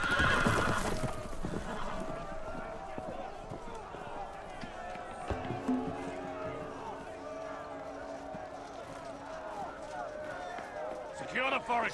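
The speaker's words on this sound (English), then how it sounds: "The horses! They're loose!" Loose horses in a Game of Thrones video game neigh and whinny loudly, with hooves clattering as they gallop through a busy, noisy scene. Voices are heard along with them.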